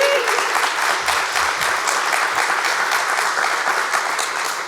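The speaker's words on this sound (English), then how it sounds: "I wanted a whole room of people to applaud me for writing a thesis." A room full of people applauding at a talk, dense close clapping that holds strong and steady, then eases slightly toward the end.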